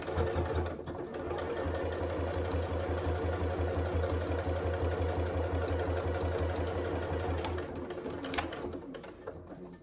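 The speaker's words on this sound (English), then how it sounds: "I start from the bottom of the pocket and work my way up. So just back stitch to secure the stitches." A sewing machine back stitches a divided inner pocket on a wash bag, running in a fast, steady rhythmic whir for most of the span before stopping near the end.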